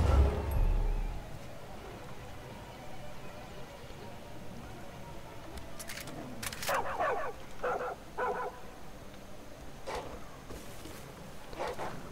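Dog barking in the Far Cry 5 video game, several short barks scattered through the second half amid outdoor game ambience, moderately loud with no talk over it.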